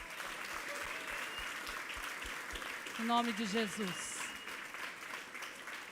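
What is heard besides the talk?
church congregation clapping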